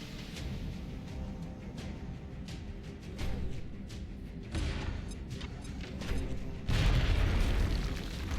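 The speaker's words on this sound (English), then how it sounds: "What about this grenade?" A grenade goes off in XCOM: Enemy Within amid a low rumble of distant booms and crashes. A louder burst lands near the end over quiet, steady background noise.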